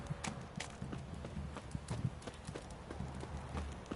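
Horse hooves clip-clopping in The Witcher 3 Wild Hunt, a quick, uneven trotting rhythm of close hoof strikes over a low game ambience.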